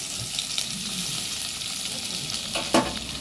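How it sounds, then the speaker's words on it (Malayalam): Chopped shallots and curry leaves sautéing in a pan with a steady, close hiss of frying, broken by a few stirring scrapes and one sharper clack near the end. "എന്നിട്ട് വീണ്ടും നന്നായി വഴറ്റിയെടുക്കുക."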